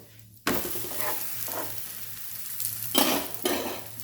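Sweet potato holige frying in plenty of oil in a pan, flipped over to cook the other side: a steady close sizzle with louder crackling bursts and scraping as the flatbread is turned.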